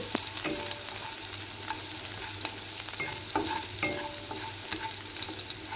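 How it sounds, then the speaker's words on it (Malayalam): Continuous crackling sizzle of mustard seeds frying in oil, broken by repeated spoon scrapes and light taps against the pan, with no speech. "ഇങ്ങനെ കടുക് വറുക്കാനായിട്ട് വെച്ചതെല്ലാം നല്ലതുപോലെ മൂത്ത് വരുന്നുണ്ട്"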